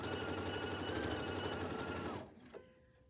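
A sewing machine runs steadily, stitching striped fabric pieces for a hexagon table topper, a loud continuous motor whir for about two seconds before it stops, followed by a brief small clunk.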